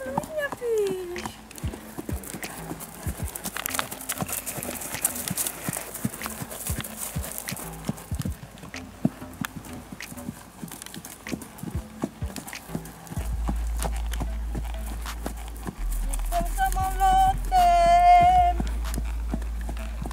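Horse hooves clip-clop at a steady walking rhythm close by for most of the stretch, with a brief whinny, while adults and someone talk over them.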